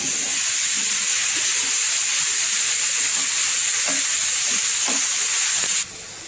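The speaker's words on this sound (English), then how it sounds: "And then in the ghee we will put our carrots and then" Carrots frying in hot ghee and being stirred, a steady close sizzle with a bright hiss running throughout and occasional spatula scrapes, quieting slightly at the very end.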